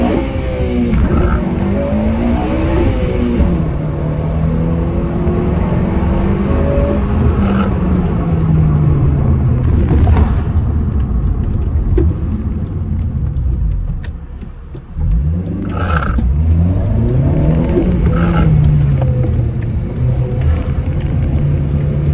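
Honda Civic Type R FN2 engine revving hard through VTEC, with loud rising and falling sweeps of engine note and a brief dip around the middle, recorded from inside the car with no talking.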